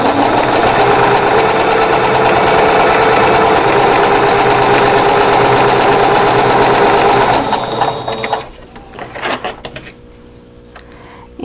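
A sewing machine stitches a calico quilt block in a steady loud whir for about eight seconds, then stops. Softer clicks and handling of fabric follow close by.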